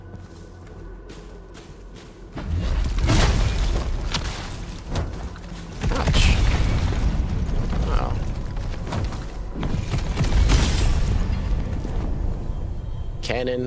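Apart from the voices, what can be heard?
crab-mounted cannon firing and exploding in a soulslike video game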